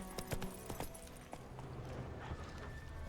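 Hooves clip-clop on a hard surface in a video game, a few sharp, fairly close strikes early on that thin out into a faint, steady background.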